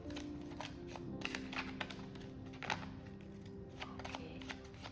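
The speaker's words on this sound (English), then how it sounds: "This is the shuffling for you." A Romance Angel oracle card deck is shuffled steadily, giving a continuous papery riffling with soft clicks under a faint background hum and no talking.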